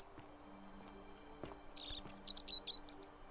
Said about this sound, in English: This tree is emitting birds.